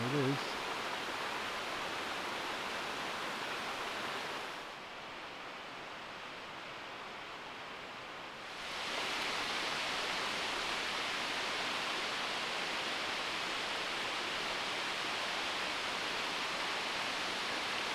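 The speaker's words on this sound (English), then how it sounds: "Another waterfall" A waterfall beside a hiking trail on Madeira gives a steady, full rushing roar, loud and continuous, dropping briefly for a few seconds before returning at full strength.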